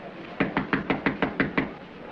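Someone raps on a door eight times in a quick, even series of sharp knocks, close and clear over a faint background hum.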